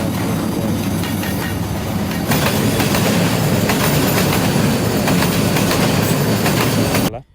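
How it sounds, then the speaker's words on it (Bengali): A passing train rumbles loudly and steadily with rhythmic clickety-clack of wheels on rails and faint squeals, holding near and constant before cutting off abruptly at the end; no talking. "ট্রেন চলে গেছে"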